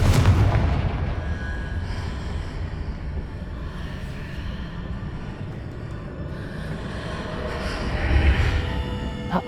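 A Confringo blasting spell explodes in the video game Hogwarts Legacy, a dense rumbling boom that swells at the start and again near the end over a steady, noisy game backdrop, with no talking.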